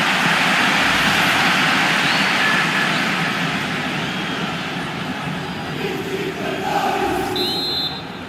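A stadium crowd in FIFA 19 swells in a loud, sustained roar over a missed shot, gradually easing off while the rumble of the packed stands continues.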